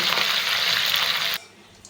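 Fish sizzles loudly and steadily in hot oil with a dense, even hiss, then the sound cuts off abruptly to near quiet.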